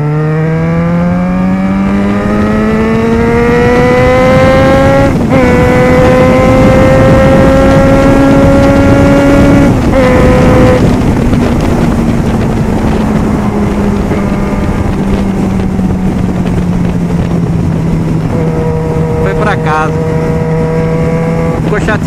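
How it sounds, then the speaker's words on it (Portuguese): Yamaha XJ6 and Honda Hornet motorcycles racing on a track, engines roaring loud and close with steady high revs, a couple of gear shifts and rising and falling pitch throughout, with wind noise heavy underneath. "Chateado com o ronco dele, é mais baixo que o meu"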